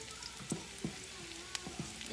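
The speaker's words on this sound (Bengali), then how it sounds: "আমার পেঁয়াজ, রসুনটা আর মরিচের এখন ব্রাউন হয়ে আসছে" Onion, garlic and chili fry until brown with a quiet continuous sizzle, and several soft stirring scrapes land at irregular intervals.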